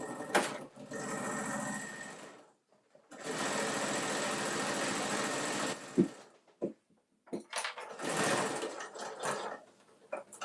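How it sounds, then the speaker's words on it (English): A sewing machine runs a straight stitch down a strip of Velcro in long steady whirring bursts, stopping and restarting several times with brief quiet gaps between runs. "You just are literally going to make a straight stitch down the Velcro."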